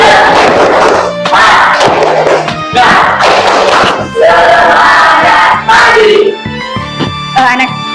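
A class of schoolchildren claps and chants a tepuk semangat rhythm together in a classroom, loud bursts of group voices and hand claps in repeated rhythmic phrases.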